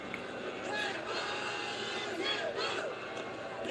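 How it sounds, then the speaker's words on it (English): Cricket crowd at a Nepal versus Netherlands match, cheering and chanting steadily throughout as a dense, continuous roar with rising shouts, fairly distant and filling the air. "This crowd is just pushing this Nepal innings along."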